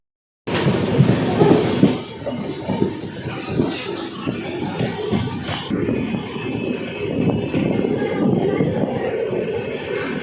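The Purnagiri Jan Shatabdi Express rolls into Khatima railway station, a close, continuous rumble with rattling wheels and clanking carriages that starts abruptly and stays steady.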